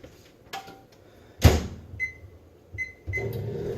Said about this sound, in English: so put this in the microwave.